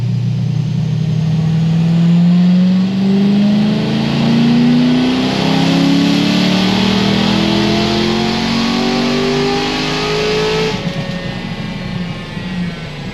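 Car engine held on a two-step launch limiter, a loud sustained rev with rising pitch and a rough popping hold, close by and continuous until it drops off near the end.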